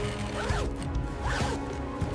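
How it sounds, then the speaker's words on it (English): Leather goods at a cow leather factory get a zipper pulled along twice, each a rasping, clicking run over a steady background hum. "Zippers must be installed perfectly straight to ensure smooth operation."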